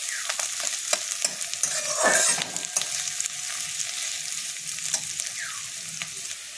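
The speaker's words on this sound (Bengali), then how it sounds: "এবারে পেঁয়াজটাকে একটু লাল লাল করে ভেজে নিতে হবে।" Two medium chopped onions frying in a pan, a continuous bright sizzle broken by the scrape of stirring, with one louder crackling swell partway through and no voices.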